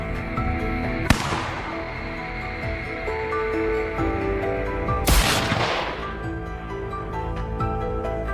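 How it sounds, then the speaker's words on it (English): Two sharp gunshots ring out several seconds apart during a wild boar hunt on a potato farm, each a loud crack with a long fading tail over a steady background. "A series of shots rang out."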